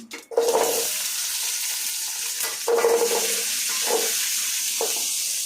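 Onions dropped into hot oil already crackling with mustard seeds and fenugreek, bursting into a loud, sustained sizzle, with stirring scrapes recurring over the steady frying hiss.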